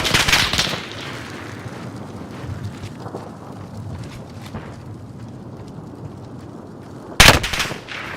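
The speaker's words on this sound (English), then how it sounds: "I'm taking fire." A tactical shooter game opens with a loud burst of close gunfire, drops to scattered distant shots over windy ambience, then ends with another sharp, loud volley.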